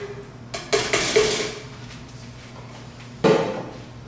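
A can of ingredients tipped into a pot of chili: metallic clanks and scrapes of can against pot, a cluster of knocks early on and another sharp clank near the end over a faint background hum.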